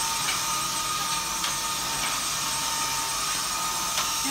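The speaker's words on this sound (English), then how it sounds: "I want to vacuum." A vacuum cleaner runs indoors with a steady, loud, broad whooshing hum, constant throughout, with a few faint knocks and no speech.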